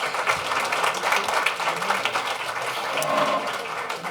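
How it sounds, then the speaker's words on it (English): Audience applause for the speakers at a conference panel, a steady wash of clapping from a moderate crowd lasting about four seconds. "Big round of applause for the speakers and for yourselves"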